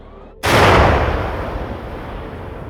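Ukrainian tank cannon firing in a rapid fire mission in a forest: one sudden, extremely loud blast, close by, followed by a long rolling roar that slowly fades.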